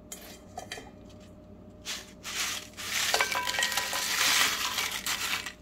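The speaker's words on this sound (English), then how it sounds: "So what I'm going to do now is return these to the pan." Fried tortilla pieces for chilaquiles tipped back into a pan, a scattered clatter of crisp pieces and scraping building into a dense, close rattle and sizzle for several seconds, with no talk.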